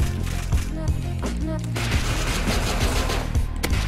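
Rapid gunfire from the survival game Rust crackles in dense bursts, several close sharp shots layered over a constant loud rumble of game noise.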